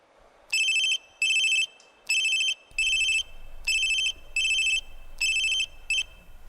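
A telephone rings in repeated bursts, about eight short trilling rings with brief gaps, loud and close, with a low rumble underneath toward the end.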